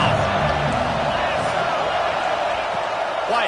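A stadium crowd at an American football game roars steadily and loudly after a defensive tackle for a loss. It is a dense, unbroken wall of cheering that holds level throughout.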